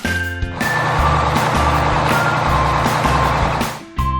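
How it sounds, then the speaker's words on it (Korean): A bulldozer rumbles with a steady, loud engine drone while its reversing alarm beeps repeatedly in a regular rhythm, close and continuous, with no talking. "bulldozer"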